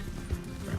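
Appaloosa horse galloping in Red Dead Redemption 2, a brief burst of rhythmic clip-clop hoofbeats with a snort or whinny near the end, heard up close.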